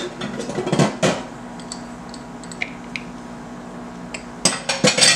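Onion, garlic and sauce ingredients are stirred in a small bowl, giving close clinks and scrapes of a utensil against the dish in short bursts at the start and end, with quieter ticks between.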